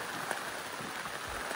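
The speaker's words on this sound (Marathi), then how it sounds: "आणि बघताय तुम्ही किती पाऊस पडतोय." Heavy rain pours steadily onto surfaces near a large bridge on the Sangli–Kolhapur border, a dense, continuous hiss with scattered louder drops throughout, no voices.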